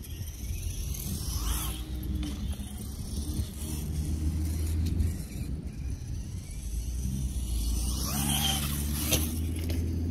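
An Axial SMT10 Grave Digger RC monster truck drives steadily, its electric motor giving a continuous whirring rumble with tyre noise, swelling and easing at moments across about ten seconds with no talking.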